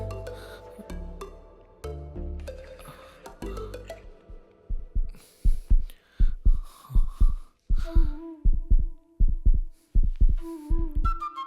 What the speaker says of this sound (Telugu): ఏంటి గుండె చప్పుడు ఎక్కువైంది